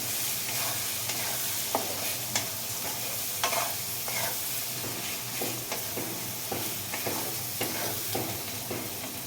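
Spices for a country chicken curry fry in a pan while being stirred steadily, a constant close sizzle broken by repeated scraping strokes of the spoon.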